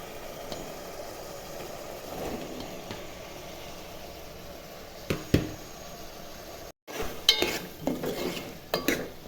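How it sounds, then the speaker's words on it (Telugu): Ridge gourd pieces go into a pot of cooked chana dal and are stirred, a soft bubbling simmer with clinking spoon scrapes and knocks against the pot, louder clatter near the end, no speech. "చూసారు కదా పప్పు ఉడికిందండి కొంచెం. ఇప్పుడు బీరకాయలు వేసుకుందాం."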